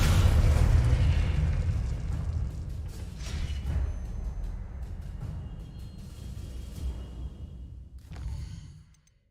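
Confringo blast spell in the game Hogwarts Legacy, a loud booming explosion up front that rumbles on and slowly fades over several seconds, with a sharp crackling burst near the end.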